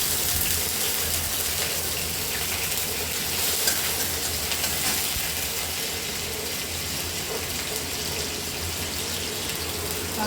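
Ginger frying in a pan for a Bengali potato chop, a loud, constant broadband sizzle with a gritty crackling texture that runs unbroken from start to finish, close up with no talking.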